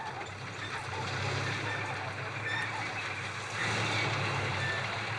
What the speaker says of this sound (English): The creaking noises of this truck are known all over Bariba in Benin.